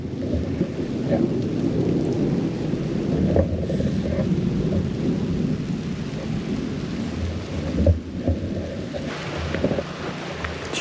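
Steady rain pours over a small pecan farm, with gusts of wind buffeting the microphone and low rumbles of thunder rolling in the background.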